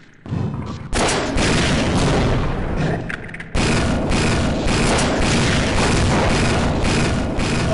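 A grenade blast in the Half-Life video game, with a sudden loud boom and then a second heavy burst a few seconds later, each leaving a dense rumbling roar that fills the rest of the clip.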